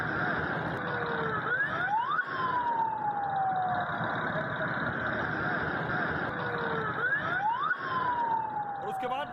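An ambulance siren wails in rising and falling sweeps, two full cycles, steady and fairly prominent over a constant background noise.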